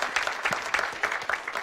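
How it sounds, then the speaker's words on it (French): Brief, scattered clapping from a church congregation applauding a man named Dan, a few people clapping unevenly for under two seconds. "Quelqu'un l'applaudit."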